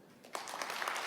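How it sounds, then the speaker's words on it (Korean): Audience at a corporate smartphone business briefing applauds, a faint lead-in that swells into steady, dense clapping. "다시 한번 여러분 박수 부탁드리겠습니다."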